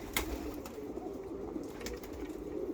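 Rakkas pigeons, a male and female pair, cooing softly: low, throaty coos repeating over a faint background hum, close but quiet, with no voices.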